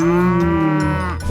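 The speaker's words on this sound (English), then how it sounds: "it's a big cow" A cow on a farm gives one long, loud, close moo that holds steady before tapering off at the end.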